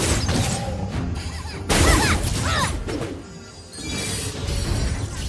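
A turret being destroyed in a video game: crashing, shattering impacts and booms over busy game effects, with a big burst near the middle and steady clatter around it.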